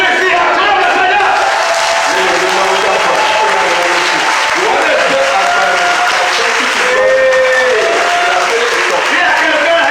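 Church congregation clapping and cheering loudly in praise of the Lord during a Sunday service, a dense, sustained roar of applause mixed with shouting voices for the whole stretch.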